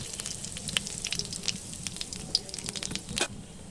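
Black cumin seeds splutter in hot oil, a soft crackling hiss dotted with sharp little pops at irregular intervals, close but fairly quiet.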